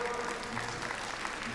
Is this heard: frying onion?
no